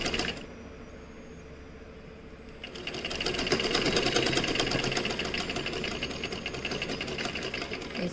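An electric sewing machine stitches a square neckline on a garment. After a quiet pause it starts up and runs as a fast, even, close mechanical chatter until the end.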